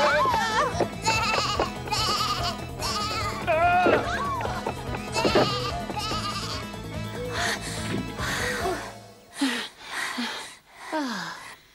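Goat bleating inside a cramped stable, several wavering bleats rising and falling over busy music, with a couple of loud, close cries standing out near the end as the music drops away.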